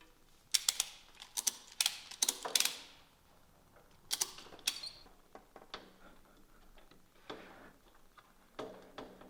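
A ratchet strap is cranked to pull a snowbike shock into the kit, making bursts of rapid close clicking ratchet strokes followed by softer, sparser clicks and handling noises.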